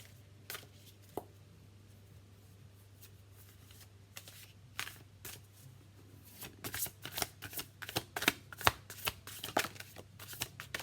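A deck of Shaman's Dream Oracle cards is shuffled close by over a low steady hum: scattered soft taps at first, then a dense run of quick riffling and slapping card sounds building in the second half.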